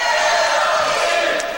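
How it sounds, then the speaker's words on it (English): Arena crowd chanting during a timeout at a sporting event, a dense, loud roar of many voices sustained throughout. "The crowd chanting AOD."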